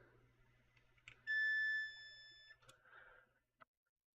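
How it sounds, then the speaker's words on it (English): A multimeter continuity test gives a single sustained electronic beep lasting about a second and a half while probing an Xbox console circuit, amid small clicks and handling noises in a quiet room. "We're just looking to see if it beeps"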